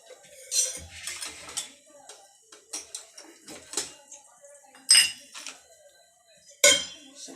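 A metal plate is set down over a cooking pan with several sharp clinks and clatters of utensils, close and fairly loud, amid quieter handling noises and brief background talk.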